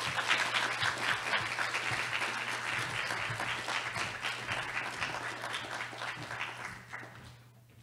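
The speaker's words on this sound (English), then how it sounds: "Please welcome Ms. Janet Napolitano to the podium with a warm round of applause" An audience at a lecture gives a warm round of applause to welcome Janet Napolitano to the podium, a dense, even clapping that holds steady and then fades away near the end.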